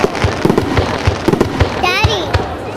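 Fireworks fired from small ground launchers crackle and pop in a rapid irregular barrage outdoors, loud and close, with a whistling rise among the bursts and a voice speaking underneath.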